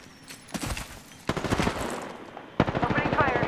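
Rapid automatic gunfire from the Apex Legends battle royale comes in three loud, close bursts of fast, evenly spaced shots separated by brief pauses, with a voice speaking faintly underneath.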